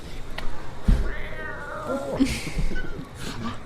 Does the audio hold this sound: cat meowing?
yes